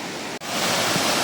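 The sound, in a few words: Mamalakandam waterfall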